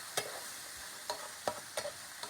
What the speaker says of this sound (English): let's turn the heat down a little bit, mix this up, and just let that simmer